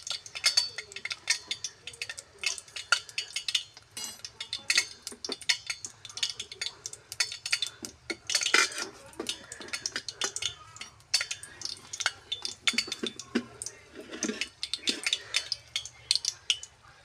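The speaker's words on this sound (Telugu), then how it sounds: "ఇట్లా గోల్డెన్ కలర్ వచ్చే అంతవరకే ఆపాలి మనం ఎండుమిర్చి" Dried red chillies fry in a pan over a wood fire, giving close, busy crackling and popping with scattered metallic stirring clinks throughout.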